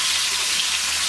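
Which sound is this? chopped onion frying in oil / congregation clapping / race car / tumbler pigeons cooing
chopped onion frying in oil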